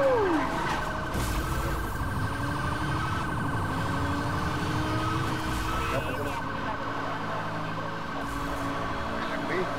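Police car sirens in the racing game Need for Speed: Hot Pursuit, several overlapping wailing and yelping tones sustained over engine noise, loud and continuous, with a player's voice intermittently over it.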